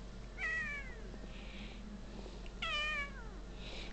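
A cat gives two plaintive, drawn-out meows about two seconds apart, fairly close and clear over a quiet background.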